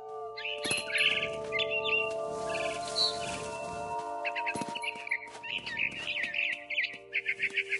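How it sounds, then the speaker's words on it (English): Barn swallow chirping in a game scene, rapid bright twitters in repeated bursts, fairly close, over a quiet steady ambient drone. "Then I heard chirping outside my window. It was a barn swallow going back to her nest."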